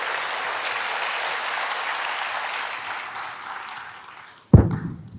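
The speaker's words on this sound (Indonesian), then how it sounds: "berikan tepuk tangan hebat bagi Dia." A church congregation applauds in praise during a worship service, a steady wash of clapping that gradually fades before a sudden thump near the end.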